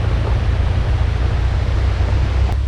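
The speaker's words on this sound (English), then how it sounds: "Hear the sound of water rushing down there. There's a waterfall." Water rushes steadily down toward a waterfall beside a mountain Jeep trail in Georgia, heard as a continuous, loud broadband roar with no pauses and no voices.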